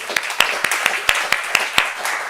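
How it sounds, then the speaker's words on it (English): An audience applauds at the close of a talk at an AI research event, a short burst of sharp, uneven claps from a modest crowd, close and fairly loud. "Big applause for you."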